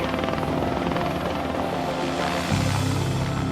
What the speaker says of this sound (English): We just took the helicopter and for an hour just chased him.